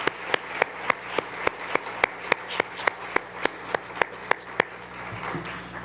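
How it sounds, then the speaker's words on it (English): An audience at an appreciation event applauds nominees with sharp, evenly spaced claps in a steady rhythm, repeating about three times per second over a soft background murmur. "Let's give a round of applause to everyone who's been nominated."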